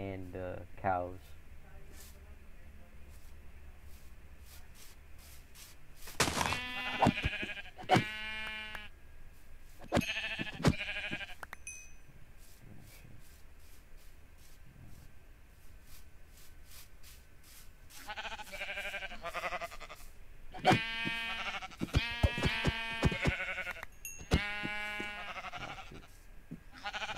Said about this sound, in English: Kill way more sheep than fucking